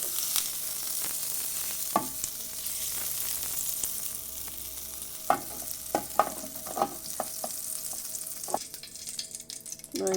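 Butter melting and sizzling in a frying pan while eggs are cooked in a pan, a steady close frying hiss broken by a few sharp clicks and taps of utensils against the pan.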